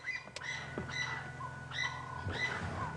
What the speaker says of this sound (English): Something has made those francolins, those birds, very cross.